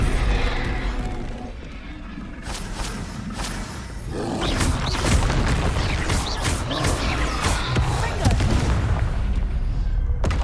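Confringo blasting-spell explosions from the Hogwarts Legacy video game, a loud series of booming blasts with crashing debris that grows denser and louder in the second half, with voices talking over the game.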